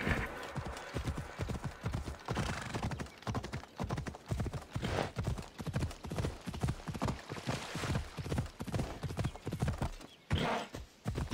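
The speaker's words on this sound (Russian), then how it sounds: "На коне вроде как более побыстрее." Horse hooves clip-clop steadily in a fast rhythm as a mount gallops in the video game Assassin's Creed Odyssey, a continuous, fairly faint drumming with no other voices over it.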